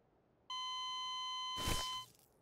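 In the video game PUBG, a self-AED revive gives a steady electronic beep tone held for about a second and a half, ending in a short burst of noise, clear against quiet background.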